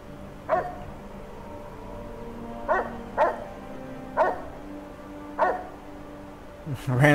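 Fallout: Tale of Two Wastelands dog barking, a series of five separate, evenly spaced barks close by over a low background hum, ending with a louder burst of noise.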